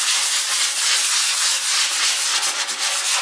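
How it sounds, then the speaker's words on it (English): A fine grit sanding sponge rubs lightly back and forth over a clear-coated wood table, a close, continuous hissing scrape with slight swells in the rhythm of the strokes. "take my really fine grit sanding sponge here and I'm just going to go over it really lightly"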